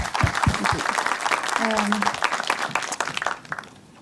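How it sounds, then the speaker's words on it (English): A conference audience applauds a panel speaker with brisk, dense clapping that builds from a few early claps, holds for a few seconds, then tapers off, with a voice briefly audible among the hands. "Let's make an applause for Ira."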